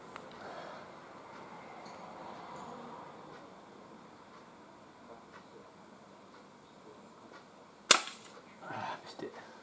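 A single sharp crack from an SMK CP2 .22 air rifle fired outdoors at cans, standing out against soft wind and a quiet background, with a brief rattle just after.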